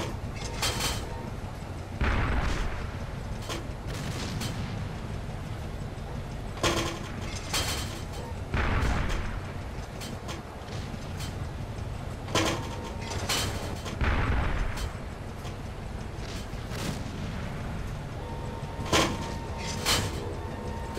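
Tank cannon fire in the Arma tactical mission, with several heavy booms spaced across a low battlefield rumble, some close and loud, others farther off.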